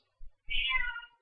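A domestic cat gives a short soft sound followed by one clear, drawn-out meow, close and alone in a quiet room.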